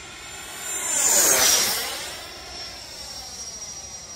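A Freewing F16 90mm EDF RC jet on an 8s setup roars past at full throttle, a loud ducted-fan whine that swells as it nears, then fades into a steady distant hiss with no talking.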